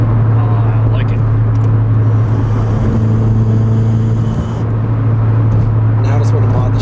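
Subaru BRZ fitted with a Nameless Performance exhaust cruising in sixth gear at about 80 mph and 3,500 rpm, a steady loud low drone with road noise throughout, while people talk inside the cabin.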